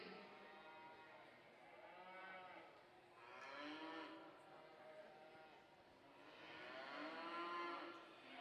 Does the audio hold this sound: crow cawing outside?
no